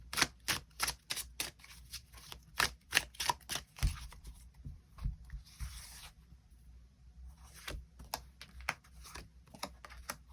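Tarot cards riffle and slap as they are shuffled and drawn, with rapid bursts of crisp, close flicks and snaps, a softer sliding pause in the middle, and then more quick card clicks.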